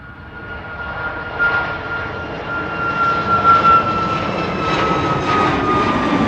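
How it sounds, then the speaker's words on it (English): A TUI Boeing 737 MAX 8 jet taking off from runway 24 at Amsterdam Schiphol, a loud continuous engine roar that swells slightly as it passes. "Coming this way, TUI flight 1667. Max 8 737."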